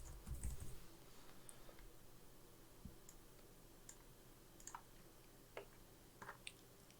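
Quiet keyboard typing at a computer while drafting in AutoCAD, a few soft scattered key clicks over a low room hum, close but faint.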